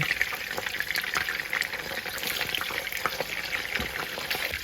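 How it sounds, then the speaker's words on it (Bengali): Chapli kebabs sizzle and crackle steadily in a hot pan of oil, with occasional soft scrapes and clicks as two spatulas turn them, continuous and close with no talking. "আমি দুটা স্পেচলার মাধ্যমে উল্টিয়ে নিচ্ছি তাহলে কাবাবগুলো ভেঙে যাবে না"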